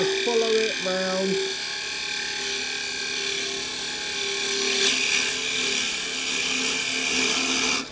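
A round chisel cuts a wood bowl spinning on a lathe, producing a continuous close whirring scrape with steady tonal hum, while a voice briefly talks near the start.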